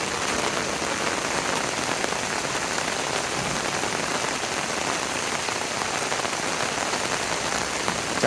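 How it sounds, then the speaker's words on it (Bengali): Heavy rain pours beside a village pond, a loud, dense, unbroken hiss of drops striking water and ground that stays constant throughout, with no voices. "এত বৃষ্টি আমি কখনো দেখি নাই আমার লাইফে।"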